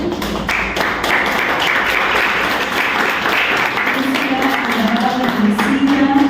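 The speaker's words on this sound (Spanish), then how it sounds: "Úrsula Alvarado, a quien pido por favor un fuerte aplauso" An audience at a poetry lecture in Lima gives sustained, fairly loud applause for the speaker Úrsula Alvarado. It is a full room of steady clapping, with a voice briefly audible near the end.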